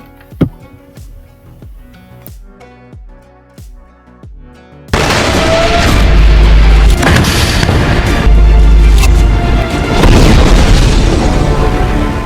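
Missile strikes on Hezbollah positions in news footage: a few sharp, distant booms over the first five seconds, then a loud, sustained roar of blasts and rumbling with deep low thuds.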